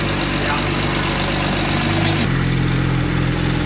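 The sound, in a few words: BMW engine idling while cold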